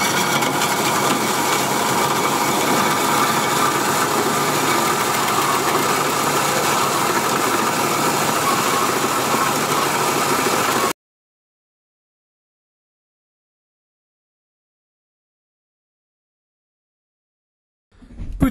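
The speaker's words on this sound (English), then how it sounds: "then we put it in a bandsaw and cut it" A bandsaw cuts a strip of 40 by 5 mm steel in a workshop, a steady, loud mechanical drone running unbroken for about eleven seconds before stopping dead, followed by silence and a brief noise at the very end.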